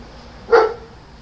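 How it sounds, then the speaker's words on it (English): A guard dog gives one short, sharp bark at moderate distance on a rural property in Taligaman, Agusan del Norte, with quiet background before and after. "Oh, my guard dog is barking."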